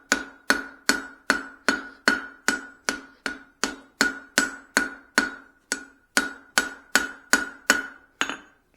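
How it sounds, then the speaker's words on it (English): Hammer blows ring out while forging a Swedish-style cross peen, a steady series of about twenty light, evenly spaced metallic strikes on the anvil, each with a short ringing decay. "these are not going to be very hard blows. I'm really not trying to do too much"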